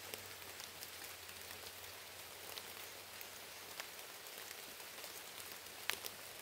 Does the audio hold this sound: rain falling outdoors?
yes